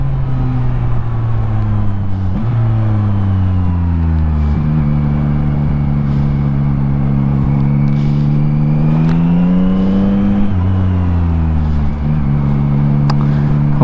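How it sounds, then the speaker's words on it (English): A motorcycle engine drones steadily during a ride to work, its pitch rising and falling as the bike speeds up and shifts, loud and close throughout with no talking. "Let me just listen to the bike today."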